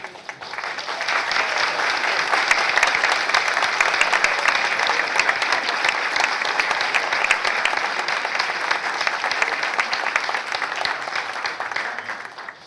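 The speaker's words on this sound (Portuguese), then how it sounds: "vocês podem se levantar para serem aplaudidos?" Sustained applause from an audience at the inauguration of a university tourism course, honouring standing tourism students: dense, steady clapping at even loudness for about twelve seconds, with no talk over it.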